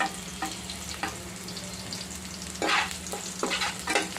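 Oil sizzling and frying in a pan before okra goes in, with repeated scraping stir strokes at irregular intervals over a steady soft sizzle, nearby and fairly quiet.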